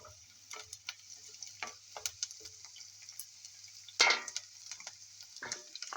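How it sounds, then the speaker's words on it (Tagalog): Onions sautéing in a pan for a purslane side dish, with a soft steady sizzle and scattered clicks and scrapes of a utensil, one louder clatter midway, no talking. "Now let's start saute onions."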